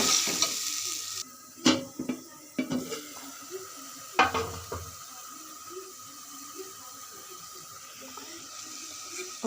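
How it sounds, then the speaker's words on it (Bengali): Spices fried and stirred in fish oil for a rohu curry with mixed vegetables, giving a low steady sizzle broken by several sharp scraping and clanking stirs in the first half, then quieter continuous frying. "এখন আমি সব কিছু মশলা এখানে দিয়ে দিচ্ছি মশলাটা আমি ভালো করে কষিয়ে নেব"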